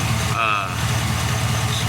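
A car engine fitted with a homemade hydrogen fuel cell setup, exhaust running straight off the catalytic converter, idles with a steady low rumble, and a voice briefly sounds over it.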